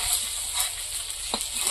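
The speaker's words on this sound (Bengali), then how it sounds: "ডিমগুলো ভাজা হয়ে গেছে" Eggs fry in hot oil with a steady, hissing sizzle and scattered small pops and spits, moderately close and continuous without any talking.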